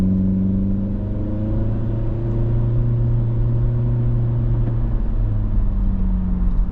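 2025 Acura Integra pulling away from a stop, a steady engine drone rising gradually in pitch from inside the cabin, moderately loud with no talk.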